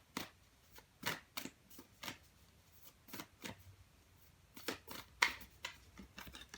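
Moonology oracle cards shuffled by hand in a quiet room, a string of short papery riffling bursts at an uneven rhythm, close and soft, with no talking.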